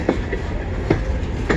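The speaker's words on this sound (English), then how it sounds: "This train is CN M382 northbound" A CN M382 mixed freight train heading northbound near Kimball Township rolls past up close, with a steady rumble and repeated rhythmic wheel clacks roughly every half second.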